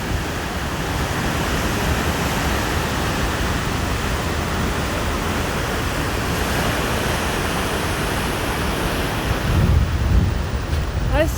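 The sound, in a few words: creek water flowing at Athabasca Falls, Jasper National Park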